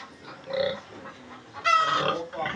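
Pigs on a pig farm, large animals of around 200 kilos, give short grunts and oinks at close range, with a louder burst of squealing in the second half.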